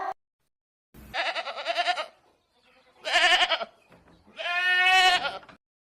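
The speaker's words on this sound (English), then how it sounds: "G for goat." A goat bleats three times in drawn-out, wavering calls separated by short pauses, loud and close with nothing else around it.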